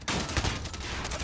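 Gunfire in a Modern Warfare shooter game: a rapid, loud burst of overlapping shots and blasts in a dense battle mix, with no voices.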